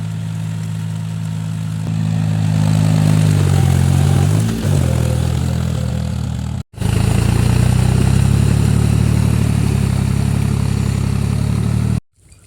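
A tractor engine runs steadily in a paddy field during rice transplanting, a loud, continuous mid-pitched drone that shifts in tone around the middle, then drops out briefly and returns just as strong until it cuts off near the end.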